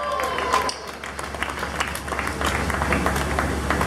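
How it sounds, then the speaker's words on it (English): Outdoor crowd at a state fair band concert claps and cheers, a loose, moderately loud spatter of applause with scattered voices mixed in, dipping briefly before swelling again. "Give a round of applause for the weather."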